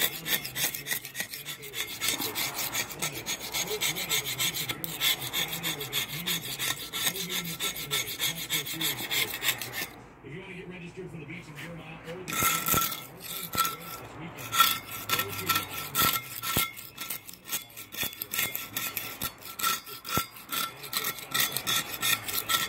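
Blistered paint being scraped off an aluminum scuba tank, a close, continuous rasping scrape in quick repeated strokes that pauses briefly midway and then resumes just as steadily.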